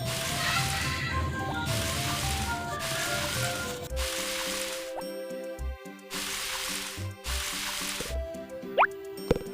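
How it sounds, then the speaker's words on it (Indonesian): Watering freshly planted turnips in the Harvest Moon Back to Nature video game, with repeated watering-can splash effects in regular bursts over chiptune background music and no talk. "Setelah selesai menanam semua turnip, langsung kita siram."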